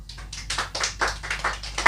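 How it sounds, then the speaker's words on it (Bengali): A small crowd at a mobile phone showroom applauds a lucky draw prize winner, a brief run of uneven, close hand claps. "সবাই বুলেটের জন্য একটু ক্ল্যাপিং করো"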